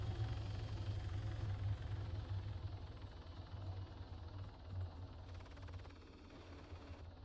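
A helicopter engine in Arma 3 drones as a steady, low, fairly faint rumble that runs unbroken throughout.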